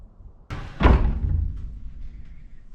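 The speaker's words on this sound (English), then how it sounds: "the way the water bottle is going to pull the door back closed" A cabin door inside a 40-foot shipping container swings shut, pulled closed by a hanging water bottle counterweight on a pivot, landing with one loud, close, booming slam that rings and fades.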